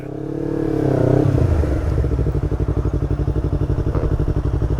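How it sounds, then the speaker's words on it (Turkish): Nearby motorcycles, Yamaha R25 sport bikes, rev and rumble: a rising engine whine in the first second, then a rhythmic, pulsing idle that is loud and close, with no talk over it. "Aha motorlar."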